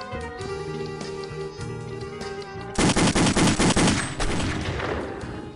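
Rapid bursts of automatic gunfire ring out in a video game shooter over background game music, a loud, quick series of shots in the middle of the clip.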